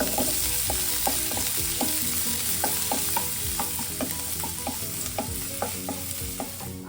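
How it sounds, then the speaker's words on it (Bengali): Garlic fries in oil with a constant bright sizzle, while a utensil stirs and scrapes the pan in a quick, regular rhythm close by. "প্রথমে আমি দিচ্ছি গার্লিকটা, বেশি করে দিলাম।"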